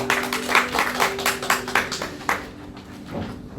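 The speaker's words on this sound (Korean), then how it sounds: "하나님께 감사의 박수 올려드리겠습니다" A church congregation at a dawn prayer service claps in thanks to God. The applause is a lively burst of many hands with a rhythmic edge, and it thins out toward the end.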